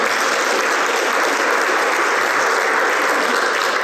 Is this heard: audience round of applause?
yes